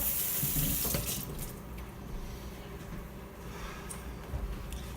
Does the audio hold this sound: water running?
yes